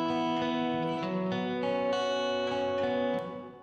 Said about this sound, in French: Donc écoutons cette hallway reverb complètement à fond.